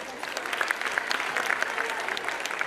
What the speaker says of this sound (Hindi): इनकी हिम्मत अफजाई के लिए ज़ोरदार तालियां बजाइए।